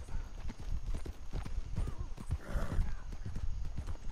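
A horse in Red Dead Redemption 2 clip-clops steadily at close range, its hooves thudding in a quick, even rhythm, with a short whinny partway through over a low background rumble.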